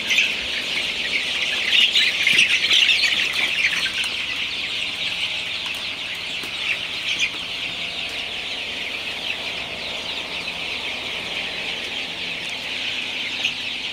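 A dense, steady chorus of many 25-day-old Sonali super hybrid chicks clucking and chattering together, continuous and fairly loud throughout with no voices.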